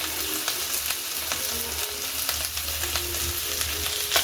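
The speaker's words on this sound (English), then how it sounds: "first of all I'm going to like fry it on the pan with just oil" Small silver cyprinid sardines from Lake Victoria frying in a pan of cooking oil with lemon and salt, a steady close sizzle with scattered pops and crackles throughout.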